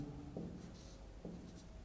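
Pen scratching across paper while working out a surd simplification maths problem, soft steady scribbling strokes close by in a quiet room with low background hum.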